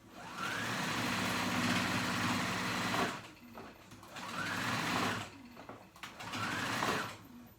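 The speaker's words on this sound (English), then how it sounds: "I'm just going over that middle line with a regular straight stitch to sew it down." A sewing machine runs a regular straight stitch along the gathered middle line of a woven peasant dress, whirring fast in three bursts separated by short pauses, close and clear with no voices.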